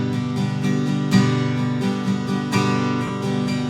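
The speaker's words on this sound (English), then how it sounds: "So in total, the chorus is going to sound like this." Acoustic guitar strumming the chorus chords of a song, a steady, full-bodied strum at moderate volume with regular downstrokes and no voice.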